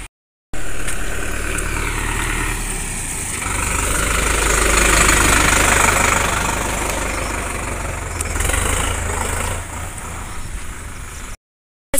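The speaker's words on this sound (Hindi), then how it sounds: "ट्रैक्टर आ रही है।" A farm tractor approaches on a village lane, its diesel engine knocking and rumbling steadily at mid range, growing a little louder toward the middle before easing off, with no talking.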